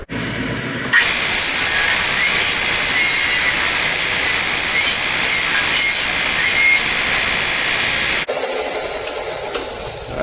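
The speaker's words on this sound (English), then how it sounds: "I'm going to go ahead and take it over to the sander and clean the edges up a little bit" Power sander smoothing the edges of a CNC-cut wooden sign; a loud, steady hissing whir starts abruptly, runs unbroken for about seven seconds, then cuts off, with a short continuation after.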